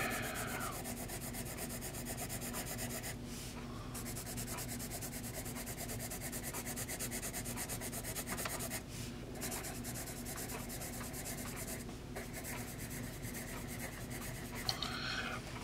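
Vintage Ford Motor Company #2 pencil writing on paper, a steady close scratchy rubbing that runs continuously with a few brief pauses, fairly quiet and with no voices.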